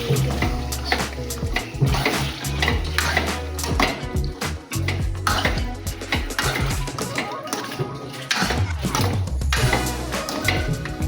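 Chicken pieces being turned in a pan for a simple chicken gravy, with continuous metallic scraping, clanks of a spoon on the vessel and wet sizzling, busy and close throughout.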